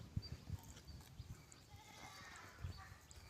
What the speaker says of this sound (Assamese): এতিয়া চাওকচোন ভেড়া ছাগলীখিনি কি ধুনীয়া